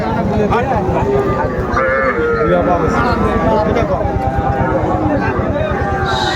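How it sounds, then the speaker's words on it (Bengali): Bull and heifer calves low and moo at a cattle market in Faridpur, Bangladesh, amid a busy market din, with steady crowd chatter and a constant rumbling background throughout. "ষাঁড় এবং বকনা বাছুর গরুগুলো বেচা কেনা হচ্ছে,"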